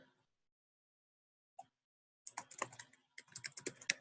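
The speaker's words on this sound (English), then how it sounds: "I'm typing it out for you guys." Keystrokes on a computer keyboard, beginning with a single isolated tap and then breaking into rapid bursts of close, crisp clicks with short pauses between them, with no voices.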